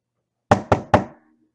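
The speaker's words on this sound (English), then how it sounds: "Knock on wood." Three quick, loud knocks on wood sound in an even rhythm, close and hollow, each dying away quickly into silence.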